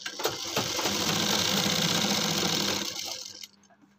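A sewing machine stitches a shirt armhole in one close, steady whirring run that fades out toward the end, with no talking.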